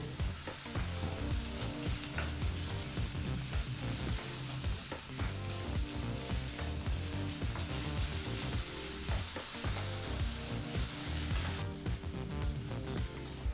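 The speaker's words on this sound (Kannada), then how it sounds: "ಸರಿಸುಮಾರು ಎರಡರಿಂದ ಮೂರು ನಿಮಿಷ ಮೀಡಿಯಂ ಫ್ಲೇಮ್ನಲ್ಲೇ ಈರುಳ್ಳಿನ ಫ್ರೈ ಮಾಡ್ಕೋಬೇಕು" Chopped onion fries in hot oil with fennel seeds over a medium flame, a loud, dense, continuous sizzle and crackle heard up close, with stirring underneath.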